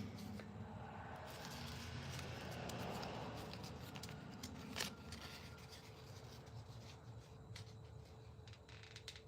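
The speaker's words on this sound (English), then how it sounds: "I don't know anybody that really enjoys hand sanding anything." Hand sanding a wood carving: a faint, continuous rasping rub of abrasive on wood, steady strokes close by with a small knock midway, no talking.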